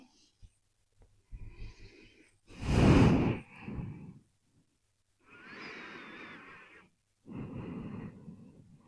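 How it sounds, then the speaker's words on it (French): Slow, deep breaths during a vinyasa yoga class, long audible inhales and exhales with pauses between them, close and clear. "Prends quelques respirations comme ça."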